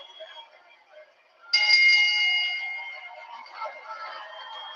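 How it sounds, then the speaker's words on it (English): A ring bell at WWE Bash in Berlin signals the start of a wrestling match: one bright struck ding cuts in sharply and rings out, slowly decaying over a few seconds above a murmur of background noise. "Bell has rang."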